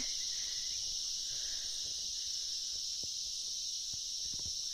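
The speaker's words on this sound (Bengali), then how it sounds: "ঝিঁঝি পোকা ছাড়া কিচ্ছু পাচ্ছি না, শুধু ঝিঁঝি পোকার ডাক।" Crickets chirp at night in one continuous, high, steady trill with a few soft knocks and faint rumble beneath, no voices.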